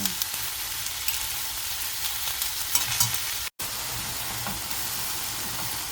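Wet shredded potato strips frying in oil in a pan with salt, a loud continuous hissing sizzle with crackles, briefly cut off for an instant partway through, and no voices.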